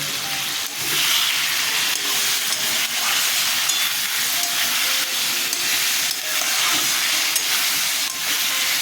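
Potatoes fry with sugar in a hot pan, giving a loud, steady sizzle and hiss that runs unbroken from start to finish.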